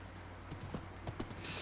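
Horse hooves clip-clop in the Minecraft video game, a few quick, light knocks scattered over a steady low hum, fairly faint and with no talking.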